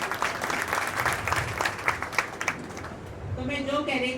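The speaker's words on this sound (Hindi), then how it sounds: "तो जोरदार तालियों से स्वागत किया जाए।" A crowd at a Dharavi campaign gathering claps loudly to welcome a guest, dense applause filling the first few seconds before thinning as a voice begins speaking.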